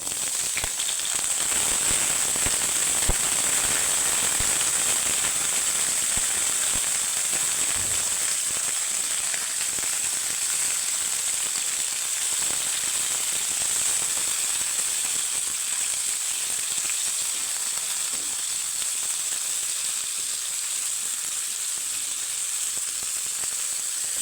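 Chopped tomato and green chillies frying in a pan, a steady close sizzle with bright crackling spatter that holds throughout, no one speaking.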